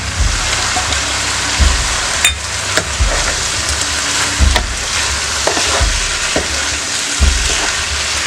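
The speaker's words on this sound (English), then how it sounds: "And we will try to cook the masala in there." Biryani masala, cumin powder and garam masala sizzling in a pan for boneless chicken biryani, with a steady fry hiss broken by several clear stirring scrapes and knocks, near and alone.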